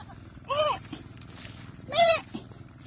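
Goat on a rural farm bleating twice, two loud wavering calls about a second and a half apart, heard nearby over low background rumble.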